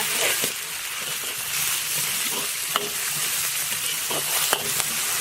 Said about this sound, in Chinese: 锅里倒点油，下入葱姜蒜，炒香以后下入猪肉丁